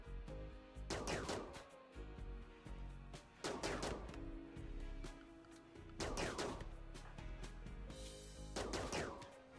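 Bursts of gunfire in the RimWorld video game, four separate rapid volleys spaced a couple of seconds apart, each a quick rattle of shots over a low game soundtrack.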